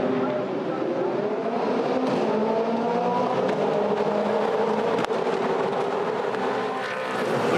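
A pack of V8 Supercars launches at the start of a 2015 SuperSprint race at Sydney Motorsport Park, engines rising together in a loud sustained wail with overlapping pitch sweeps, and a commentator talks over it.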